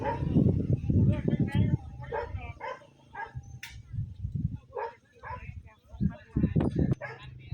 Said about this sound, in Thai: ขนาดเห็นอยู่เป็นหลายอาทิตย์แล้วนะครับเนี่ยยังเห่านะ